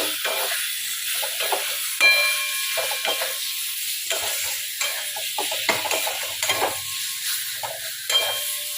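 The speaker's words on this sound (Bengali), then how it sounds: "এবার ভাজা আলুগুলো দেবো দিয়ে একটু মশলার সঙ্গে নিয়ে নেবো" Steady frying sizzle as fried potatoes are stirred into frying spices, a spoon scraping through the pan, close and continuous, no voices.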